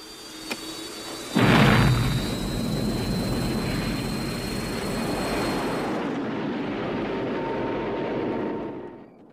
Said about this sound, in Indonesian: Setelah semuanya siap, Rambo pun langsung pergi dengan pesawat menuju ke Vietnam.